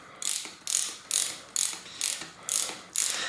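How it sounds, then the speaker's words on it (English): Plastic part being threaded onto a RockShox Indy fork, giving seven evenly spaced ratchety clicking bursts, close and crisp with short pauses between turns. "So I'm pushing it down and screwing it there."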